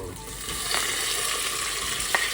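Ginger garlic paste fries in a pan in a Nepali home kitchen, giving a continuous close sizzle with soft stirring scrapes and a couple of brief sharper clinks.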